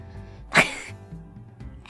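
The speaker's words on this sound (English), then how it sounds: "That's my fake sneeze." A woman lets out a single short, forced fake sneeze, a sharp burst near the start followed by quiet breathing and faint background sound.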